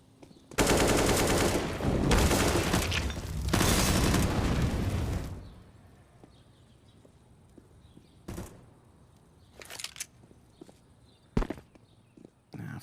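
Rapid gunfire in Counter-Strike on the Inferno map during a professional tournament final, including a shotgun: a dense, loud burst of shots for several seconds, then a few isolated sharp shots spaced apart.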